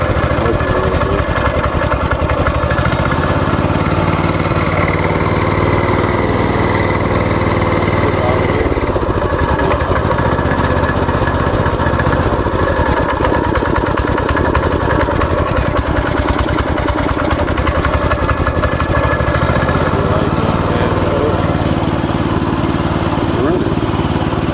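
A Yerf Dog go-kart engine runs loud and close for the whole stretch, a steady buzzing small-engine drone with slight wavering in speed and no pause.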